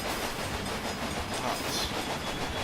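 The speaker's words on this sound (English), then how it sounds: "And we're passing our first train." In the Railway Empire video game, a train rolls past with a dense, continuous rumble and rhythmic clatter of wheels on track, loud and without speech.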